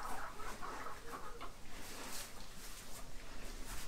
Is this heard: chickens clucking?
yes